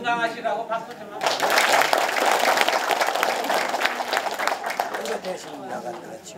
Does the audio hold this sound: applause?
yes